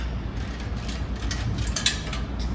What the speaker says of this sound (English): half inch socket, and we'll start tightening the nose piece.